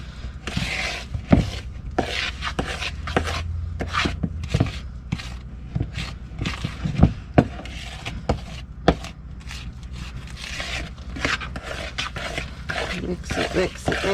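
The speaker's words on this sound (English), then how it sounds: "It's very thick, so it's kind of hard to stir." Thick banana bread batter studded with walnuts and chocolate chips is worked with a spoon in a bowl, giving repeated dull knocks and scrapes, close and moderately loud, with a steady low hum underneath.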